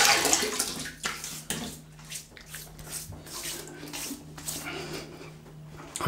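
Tap water runs to wet a shaving brush in a bathroom, a steady close splashing stream broken by brief interruptions as the brush moves through it.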